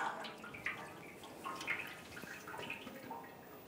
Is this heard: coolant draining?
yes